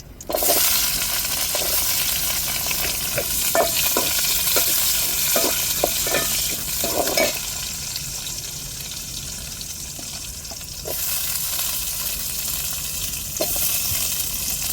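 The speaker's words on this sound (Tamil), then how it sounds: "இப்போ எண்ணெய் ஊற்றிட்டோம் கடாயில் இப்போ தாளிப்புக்கு நம்ம கருகப்பட்ட வகை எல்லாம் சேர்த்துருக்கோம் நம்ம வெங்காயத்தை சேர்த்துக்கிருவோம்" Onions and curry leaves frying in oil in a kadai, a steady bright sizzle with scattered stirring scrapes and clinks, loud and close, easing midway then swelling again near the end; no talking.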